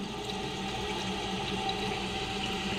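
Water rushes steadily into a toilet tank as it refills after a flush, a continuous close hiss and gurgle with no talking, the float rising on the incoming water.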